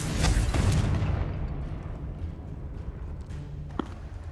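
A Confringo fire spell from the Hogwarts Legacy video game on PS5 bursts as a loud, booming blast that rumbles and fades out over a few seconds, heard on its own with no talk.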